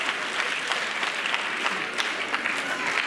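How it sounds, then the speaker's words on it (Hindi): An audience claps enthusiastically for a student prize winner at a school competition awards ceremony in Haryana, a brisk, fairly loud round of applause with distinct individual claps standing out. "जोरदार तालियां इस बेटी के नाम से।"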